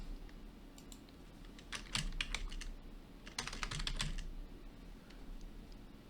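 Fingers type a search term on a computer keyboard at a Unity workstation: two quick bursts of clicky keystrokes, close but modest in level, over a low steady room hum, with no talking.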